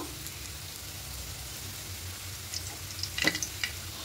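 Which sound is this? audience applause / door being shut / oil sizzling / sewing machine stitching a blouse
oil sizzling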